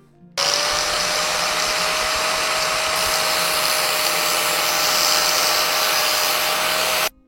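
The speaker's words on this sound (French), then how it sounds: "il va falloir que je fasse les 3 autres à la disqueuse pour qu'ils soient tout plats" An angle grinder cuts steadily while a snake terrarium is being built, a loud continuous high whine with a constant tone that starts abruptly and runs unbroken for about seven seconds before cutting off.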